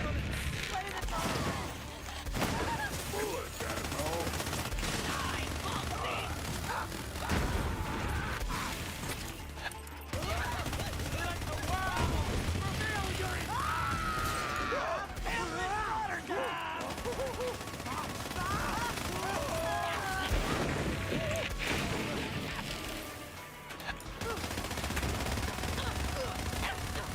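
Borderlands 3 gunfire during a level-one gear challenge: dense, rapid bursts of shots and impacts rattle almost continuously for the whole stretch, with game effects and occasional voices layered over them.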